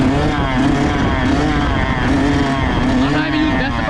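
A Kawasaki KX112 dirt bike engine revs steadily in second gear under light throttle, a loud, close, continuous buzzing drone with a slightly wavering pitch.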